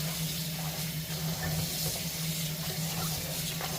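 Cabbage gets rinsed in water for kimchi, a steady soft wash of running water and gentle splashing that carries through the whole stretch without a break, with no voices.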